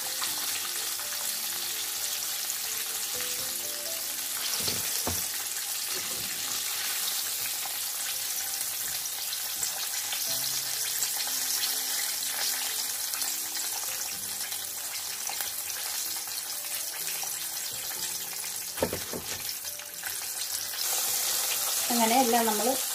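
Milk-marinated, coated chicken pieces fry in hot oil with a steady, loud sizzle that crackles on throughout, with brief clatters and bubbling near the end.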